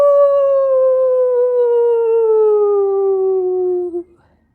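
A person's voice imitates a wolf howl, one long sustained tone that slides slowly downward for about four seconds before cutting off, loud and close with nothing else behind it.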